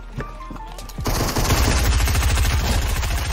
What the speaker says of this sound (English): Oh, I'm getting shot at from behind.